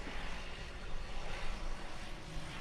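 Light aircraft engine droning in level cruise flight around 10,100 feet, a steady, fairly quiet hum with no talking.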